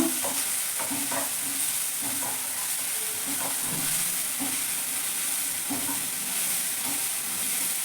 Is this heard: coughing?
no